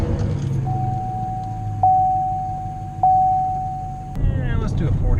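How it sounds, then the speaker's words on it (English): A 2014 or later Chevrolet Silverado pickup fitted with an aFe Momentum GT Pro Dry S cold air intake drives along, its engine a steady low rumble inside the cab, with a sustained electronic beep tone partway through. "this is actually the initial test drive of the truck with the cold air intake"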